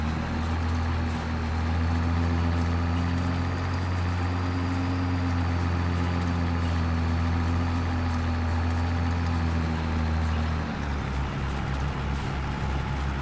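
A small tractor engine runs with a steady, loud low drone and chugging hum, then its pitch drops toward the end as the load changes; no voices over it.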